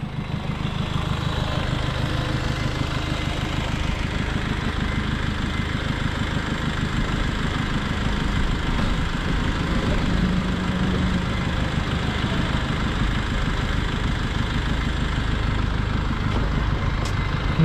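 A parked car with Bulgarian plates idles beside a pedestrian crossing near a park, a steady low engine rumble with street ambience that holds constant throughout.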